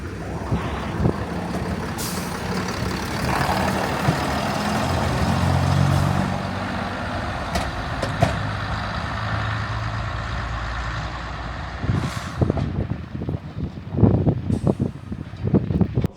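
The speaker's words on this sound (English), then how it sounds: "the Class 121 bubble car decided to show up" Class 121 bubble car diesel railcar at Shrewsbury station, a steady engine rumble and hiss on the platform with a swelling pass, then clanks and sharp clatters near the end.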